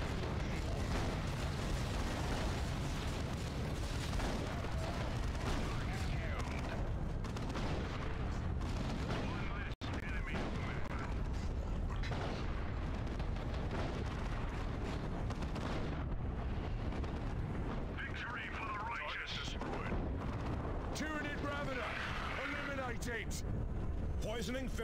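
Dense battle gunfire and booming explosions from a Dawn of War 2 Warhammer 40K skirmish against Tyranids, a continuous loud wash of shots and blasts over game voice lines for nearly the whole stretch.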